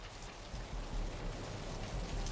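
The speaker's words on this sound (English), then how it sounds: "Raining again. It's raining again." Steady rain falls in the Vampire the Masquerade: Bloodlines video game, a dense, even hiss of drops that stays constant and fairly loud throughout with no voices.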